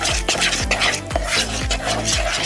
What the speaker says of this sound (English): let me make sure that all this is stirred up really good